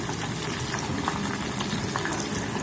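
Food crackles and pops steadily in a hot pan for a traditional home dish of egg, onion and chive sambal, a dense continuous sizzle with scattered sharp bursts close by and no talk.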